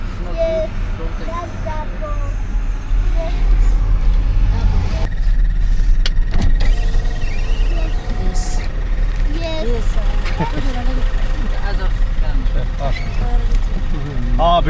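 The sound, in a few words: street traffic in Addis Ababa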